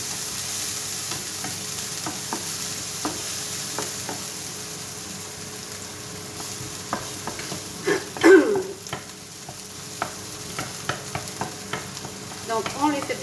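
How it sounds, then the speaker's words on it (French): Chicken breast roasting in a hot pan for a morel sauce, with a steady sizzle and frying crackle under bursts of scraping stirs that grow busier in the second half, close and fairly loud. "Faut pas que ça brûle, mais que ça rôtisse. Et je mélange."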